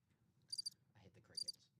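Crickets chirp as a sound effect in two short, bright bursts under a live sports card break show, with low background talk and murmur running throughout.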